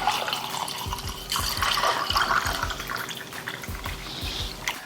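Homemade lemonade pours into a glass with steady liquid splashing and small drips, close and continuous with no talking.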